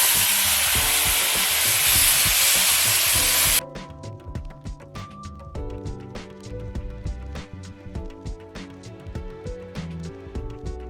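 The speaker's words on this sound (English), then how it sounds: "add my oxtails and saute for a few minutes" Oxtails seasoned with curry sauté in hot oil in a pan, starting with a loud, steady sizzling hiss that drops abruptly after a few seconds to softer frying with scattered pops and clicks of stirring.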